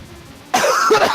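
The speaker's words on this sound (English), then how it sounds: "Sorry, cough." A single loud, close, raspy cough erupts after a brief near-silence, a harsh throat-clearing burst lasting about half a second with no talking.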